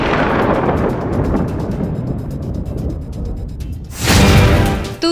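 Heavy thunderstorm and torrential rain beside the flooding Kamala river: a loud, steady roar of rain and rumbling fills the whole stretch, then turns into a harsher, brighter burst near the end.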